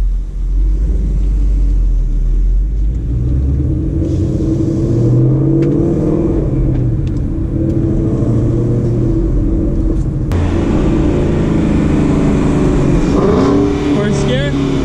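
A 2019 Ford Mustang GT pulling hard in first gear, its engine a loud, steady low rumble that holds through the whole stretch, with a voice speaking over it.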